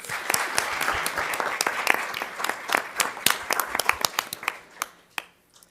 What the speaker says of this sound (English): Another round of applause for our students.